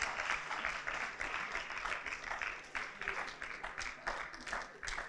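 A church congregation breaks into steady applause during a celebration service, many hands clapping at moderate distance in a continuous, even wash with some voices mixed in.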